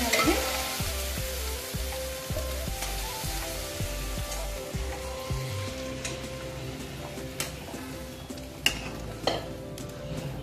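Pieces of taro (kochu) fry steadily in a pan, a dense continuous sizzle with occasional stirring scrapes and a few sharp pops toward the end, close and loud with no talking.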